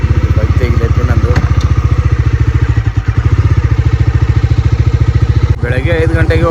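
A motorcycle engine runs close by in a steady, loud, throbbing idle with rapid regular pulses, a brief dip near the middle and a few clanks.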